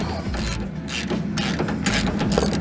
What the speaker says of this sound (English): So we'll just remove this nut.